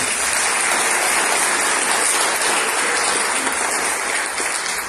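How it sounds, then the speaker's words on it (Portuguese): Church congregation applauding during a service, a continuous dense wash of clapping that stays loud and even, almost like rain, tapering slightly at the end. "Um aplauso ao Senhor pela vida dele."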